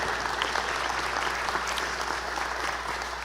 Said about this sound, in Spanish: Así que quiero que le demos un aplauso a la distancia a Valeria Coronel.